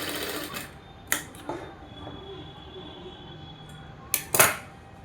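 A sewing machine stitches a blouse lining in several short, rattling bursts, one early run and a louder pair near the end, separated by quiet pauses.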